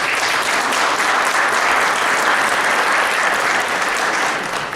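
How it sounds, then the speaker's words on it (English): Loud, dense applause fills the room at a startup accelerator demo day panel, a steady wash of many hands clapping throughout without pause or speech. "Please give him a round of applause."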